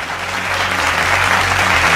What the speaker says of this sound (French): J'aimerais qu'on fasse des derniers applaudissements pour nos membres du jury